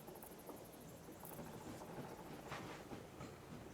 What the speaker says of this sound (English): let's wait for the train. I think there's one coming. Oh, there is one coming.